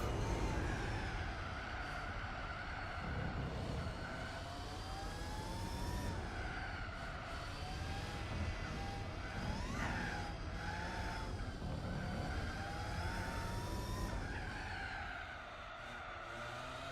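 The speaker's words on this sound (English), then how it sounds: "If only it had an accurate engine sound in the in the base game" Car engine in the racing video game Gran Turismo 4, a steady loud drone with rising and falling pitch sweeps as the car accelerates and shifts, continuous throughout with brief tire-squeal-like tones.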